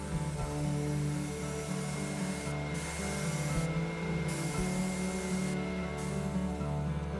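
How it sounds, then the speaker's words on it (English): An airbrush sprays weathering paint onto a model railway coach, a steady hissing airflow with a continuous rubbing texture, close and fairly loud, with no talking. "after a successful session spraying your models"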